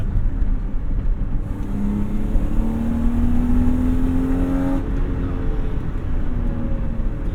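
A BMW E30 with a swapped-in S52 engine accelerates hard, a steady loud drone of intake noise with a rising whine climbing in pitch over several seconds, heard from inside the car with no talking.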